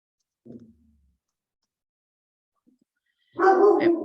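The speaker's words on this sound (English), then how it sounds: "Every time I get on a Zoom, my dog has to bark." A dog barks during a Zoom call: a faint short sound early on, then a loud, close burst of barking near the end after a stretch of silence.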